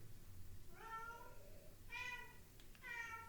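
A lonely cat indoors gives three separate meows, the later ones louder and more drawn out, over a low steady room hum.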